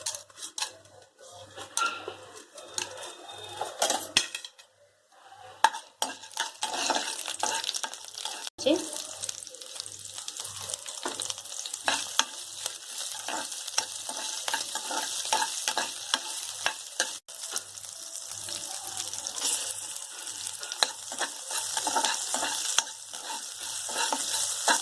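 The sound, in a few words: urad dal and chana dal frying in oil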